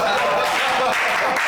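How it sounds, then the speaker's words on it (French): Audience applause fills the room as a dense, steady wash of clapping, loud and continuous throughout, with a voice faintly mixed in. "Non, applaudissez-vous moi quand même."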